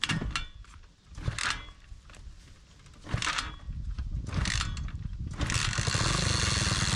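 An abandoned police motorcycle that sat sunk in a swamp is kickstarted, giving a few sharp, uneven sputters and bursts before the engine catches and runs, its revs climbing into a loud, steady roar near the microphone.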